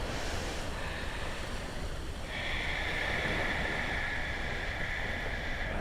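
Continuous ocean surf on a Maui beach, a steady broad wash of waves with some wind noise over the microphone, filling the whole stretch without talking.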